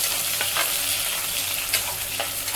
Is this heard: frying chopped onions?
yes